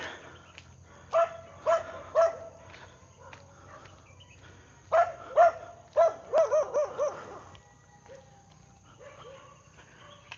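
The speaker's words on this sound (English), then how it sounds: "You hear all the dogs in the neighborhood." Dogs barking around a farm neighborhood in Surat Thani, Thailand: a few sharp barks early, then a quick burst of several barks, some distant yips, over quiet outdoor background.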